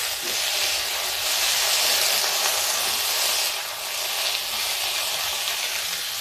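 Skin-on potato pieces sizzle and fry steadily in a pan with pointed gourd (parwal), a constant bright hiss of hot oil with faint stirring, no voices.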